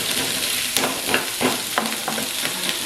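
Food frying in a pan, cooked until it turns lightly brown: a steady, close sizzle runs throughout, with several brief scraping stirs along the way and no voices.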